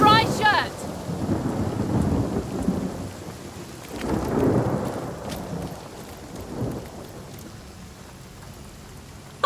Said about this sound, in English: Water rain down.